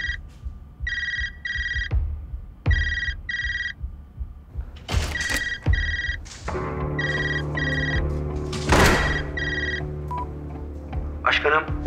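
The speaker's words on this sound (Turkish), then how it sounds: "Telefona bakmam gerekiyor." A telephone ringtone in a Turkish TV drama repeats in short bursts of electronic trills, loud and close, interrupted partway by other sounds, then returns beneath a steady hum.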